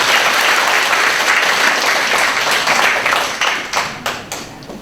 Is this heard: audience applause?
yes